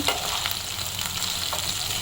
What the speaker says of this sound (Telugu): కరివేపాకు వేసేసుకుందాం. ఒక 2 నిమిషాలు ఫ్రై చేసుకొని